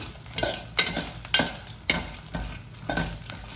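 Grated coconut is sautéed in a pan for Chettinad chicken curry, with a low sizzle under a few sharp, rhythmic spatula scrapes and taps against the metal, close by.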